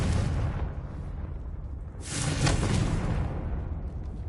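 Confringo blasting spell in Hogwarts Legacy, a dense rumbling explosion with a bright whooshing burst in the middle, loud and continuous throughout.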